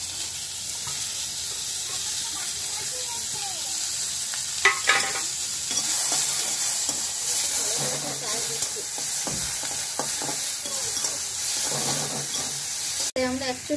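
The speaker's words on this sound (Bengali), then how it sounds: "পেঁয়াজ কুচি যা যা ছিল সব দিয়ে দিচ্ছি।" Chopped onion and ginger fry in a pan with a steady sizzling hiss, broken by stirring clatters and utensil knocks, and faint speech underneath.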